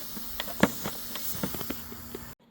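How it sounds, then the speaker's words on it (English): During an A/C recharge on a Volkswagen Tiguan, a pierced refrigerant can gives a soft, continuous hiss close by, broken by a few sharp clicks and taps before the sound cuts off abruptly. "And once this is done, then you can turn this knob all the way in to pierce the can."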